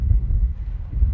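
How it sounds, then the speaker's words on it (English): Wind gusting across an open farm field in late September, a steady low rumbling buffet against the microphone that swells and eases throughout, with no other sounds present. "it's quite windy"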